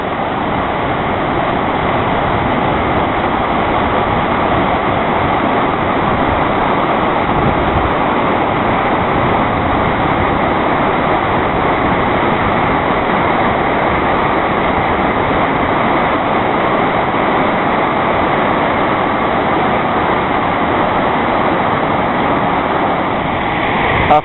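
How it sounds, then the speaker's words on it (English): Dynjandi waterfall in Iceland, about 100 metres tall and 30 metres across the top, gives a loud, steady, unbroken roar of falling water that holds throughout with no voices. "The waterfall Dinjadi"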